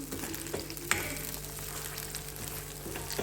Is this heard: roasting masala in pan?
yes